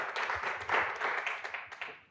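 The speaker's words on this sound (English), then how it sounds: "please, round of applause" A burst of audience applause for panelists at an education talk, dense clapping that swells briefly and then tapers off toward the end.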